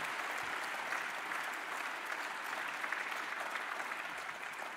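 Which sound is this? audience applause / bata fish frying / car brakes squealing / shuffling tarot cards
audience applause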